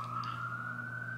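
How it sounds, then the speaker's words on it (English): An emergency vehicle siren sounds outside as a steady, sustained wail, holding a single pitch that rises slightly. It stays continuous and moderately loud for the whole moment, with no talking over it. "I can't concentrate with a stupid siren."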